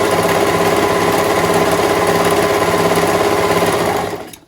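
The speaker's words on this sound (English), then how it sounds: "what's nice about using a serger for this is your fabric isn't going to fray" A serger runs a fast, steady mechanical whirr while trimming the edge of cotton lycra fabric for a pillow cover, loud and close, then winds down and stops at the end.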